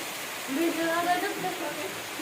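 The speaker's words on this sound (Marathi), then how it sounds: "पाऊस जोरात आला" A steady, dense hiss of heavy rain runs throughout while people talk over it nearby.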